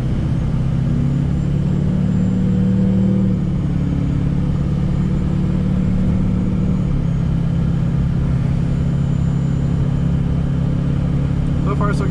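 A Duramax diesel truck on newly mounted 38-inch Toyo M/T tires drives off, its low engine rumble and road noise steady inside the cab, with people talking over it.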